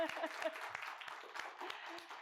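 Audience applause for performers on a spelling competition show, a steady wash of clapping held fairly quietly beneath a host's voice.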